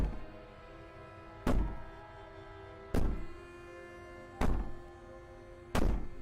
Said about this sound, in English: Bang on the door all you want.